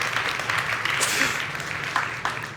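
An audience at a Xiaomi product launch at MWC in Barcelona claps and applauds. The applause is a steady, moderately loud wash of hands that fills a large hall for a couple of seconds.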